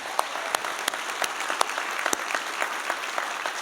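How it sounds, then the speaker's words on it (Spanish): Audience applause for a church service production team, a steady wash of clapping with sharp individual claps standing out, moderately loud and continuous with no talk over it. "Vamos a dar un aplauso para el equipo de producción."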